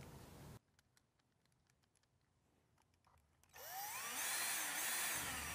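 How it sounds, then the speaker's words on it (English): Power drill boring pilot and countersink holes in plywood, a loud close whine that starts abruptly after a quiet pause and runs steadily to the end, with a short burst at the very start. "Drill pilot and countersink holes and drive 5 3/4 inch screws evenly spaced through the strip into the plywood."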